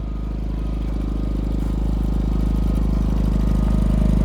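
A Predator 5000 generator runs inside a shed, a loud, steady, close droning hum with a buzzy harmonic tone that swells slightly over time.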